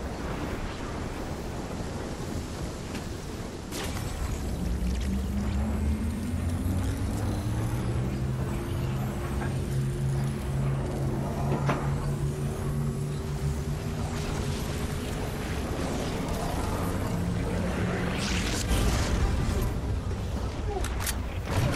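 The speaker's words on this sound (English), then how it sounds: "there's a bike here I can use to take off" A motorbike ridden in Fortnite, engine droning with rising and falling pitch over steady wind and ambient rumble, continuous and fairly close for most of the run.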